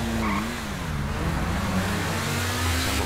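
A Pagani Zonda driven in GTA V, its engine droning steadily with small pitch rises and dips as it cruises, loud and continuous, with a faint tire squeal.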